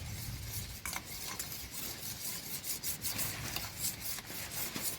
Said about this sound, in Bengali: এখন আমি দুধ গাজর খুব ভালো করে মিক্স করে নেব।